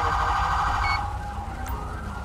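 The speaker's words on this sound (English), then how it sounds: "Is this my siren going on?" A police siren in the video game GTA V with the LSPDFR mod sounds loud and close as a steady electronic wail, then changes pitch partway through, with no talking over it.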